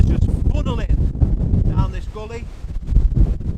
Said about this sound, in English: The wind's just funneling down this gully.